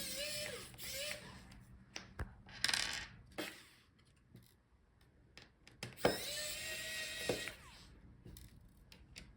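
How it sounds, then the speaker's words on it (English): Screws being backed out of the bottom bracket on an HP Envy x360 15 laptop during a teardown, heard as scattered small metallic clicks and ratcheting ticks from a driver, fairly close and quiet, with no talking. "Let's unscrew the bracket on the bottom."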